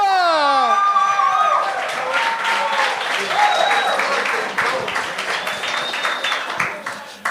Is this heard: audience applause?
yes